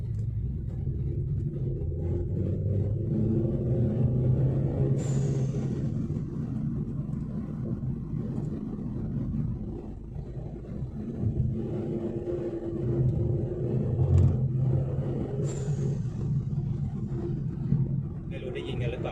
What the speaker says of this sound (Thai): มาลองฟังเสียงกันตอนนี้คือผมขับรถปิดกระจกนะครับ